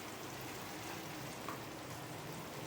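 Onion, tomato and cabbage sautéing in a pan while making veg egg noodles, a steady, close, continuous sizzle and frying hiss with faint stirring scrapes, no voices.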